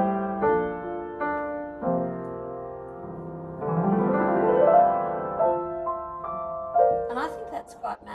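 Piano chords played gently, with a smooth upward glissando sweeping across the keys midway before settling into further chords; no voices.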